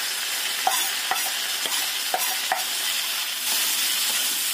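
Spring onions stir-fried with tausi (fermented black beans) in a hot pan give a steady close sizzle, with a few sharp scraping clicks of the spatula stirring through.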